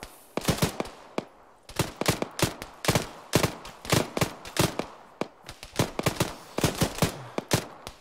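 Rapid bursts of video game gunfire crackle in irregular volleys, sharp and loud, with brief pauses between strings of shots and no talking.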